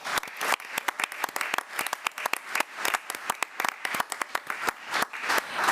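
Scattered applause at a school board regular meeting, individual claps from a modest audience sounding distinct and uneven, a light irregular patter rather than a dense roar.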